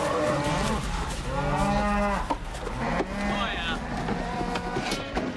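Cattle moo repeatedly from inside a livestock truck after loading at a chute on a snowy hill, long harmonic bellows overlapping close by over a steady engine or road rumble, with voices talking.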